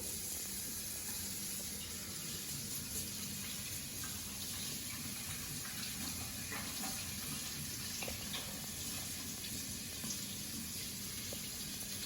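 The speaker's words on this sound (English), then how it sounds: "I'm gonna wash my hands." Steady hiss of water running from a kitchen tap while hands are washed, a continuous close rushing stream with faint splashes and no talking.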